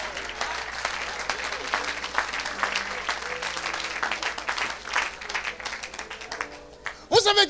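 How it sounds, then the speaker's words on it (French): A church congregation applauds and cheers together in acclaim of Jesus, a dense, sustained wash of clapping with crowd voices mixed in, swelling louder near the end. "Est-ce qu'on peut Hein? acclamer Jésus?"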